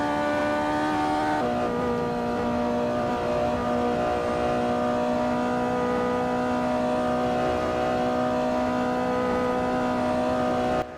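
A Lancia LC2 race car engine runs at full power around the back of a circuit, a loud, steady, high-pitched roar with one brief shift early on, then a long unbroken pull with no talk.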